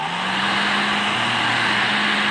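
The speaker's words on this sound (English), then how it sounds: "Now what I'm doing is just I'm warming up the material with this heat gun" A heat gun warms vinyl wrap material for a pontoon boat, giving a constant loud, close rushing blow with a steady hum underneath and no voices.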